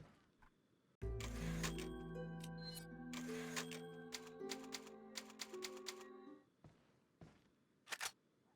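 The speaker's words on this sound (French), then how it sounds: "On entend beaucoup le clavier." Rapid clattering key strikes on a computer keyboard during a Separate Ways Ada game session, a dense burst of close, crisp clicks for several seconds, then scattered isolated taps.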